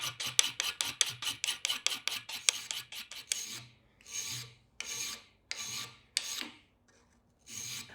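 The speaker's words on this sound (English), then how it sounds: "I just need to keep opening them in a different position to expose a high spot. File that away, keep doing that," A hand file working the joint of handmade dividers, rapid rhythmic rasping strokes at first, then slower separate strokes with pauses, close and quiet.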